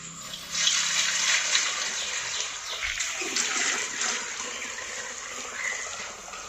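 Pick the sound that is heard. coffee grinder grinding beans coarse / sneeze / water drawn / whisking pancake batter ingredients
water drawn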